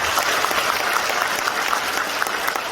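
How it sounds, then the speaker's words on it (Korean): A hall full of party members at a People Power Party training session at the Gumi civil defence education centre claps steadily, a dense, even burst of applause from a large indoor crowd throughout. "다시 한번 부장님께 박수 한번 보여주십시오."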